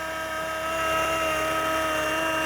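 A Flywing MH60T Jayhawk RC helicopter lifts off with a steady, high electric whine and rotor buzz. It stays loud and constant and grows slightly stronger as it rises.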